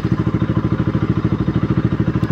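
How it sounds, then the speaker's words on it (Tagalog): KTM Duke 200 single-cylinder motorcycle engine running steadily after a starting fault, with a fast regular thumping idle pulse heard close up and loud, no talk. "Napaandar natin yung motor."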